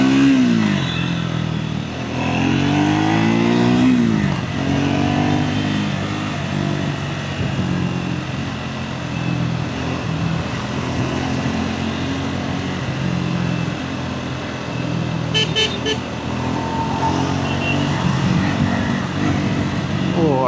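A Triumph Scrambler 400X motorcycle engine hums and revs on a test ride, climbing in pitch through early accelerations, then holding a steady, loud drone with wind noise and a rider talking over it.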